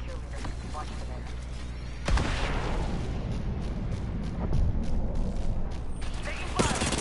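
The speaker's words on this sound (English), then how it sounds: "Taking fire." Heavy gunfire and explosive booms fill an Apex Legends firefight, a dense continuous barrage with sharp bursts near the two- and six-second marks, loud and close, with game voice lines mixed in.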